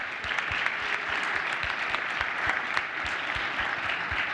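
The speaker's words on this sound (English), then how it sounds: "a round of applause for our entire panel" Steady, dense audience applause fills the room after a panel discussion at the USBevX 2016 opening night keynote, many hands clapping evenly throughout with no one speaking over it.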